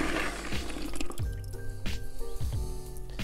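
Cooked tiger nuts are poured out along with their juice as carp bait by a lake, producing wet splashing and dripping with several soft plops of nuts landing, close and fairly loud.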